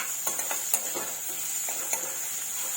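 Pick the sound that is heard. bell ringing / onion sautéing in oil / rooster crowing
onion sautéing in oil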